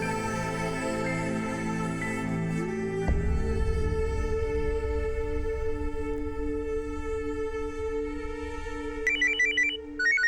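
An electronic telephone ringtone plays a sustained, tonal melody at moderate volume, with a low rumbling hum entering partway and a brighter chiming pattern near the end.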